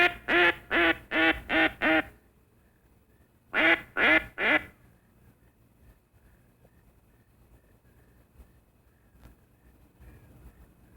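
A handheld duck call blown in a rapid series of loud, nasal quacks, five in a row, then a pause and three more, followed by quiet outdoor wind.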